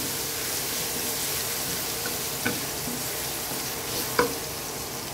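Garlic sautéing in hot cooking oil for pork dinuguan hisses with a steady close sizzle, broken by two sharp utensil clinks against the pan.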